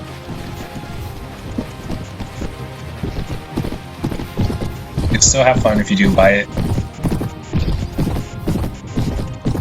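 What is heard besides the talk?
horses galloping in the video game Mount and Blade Warband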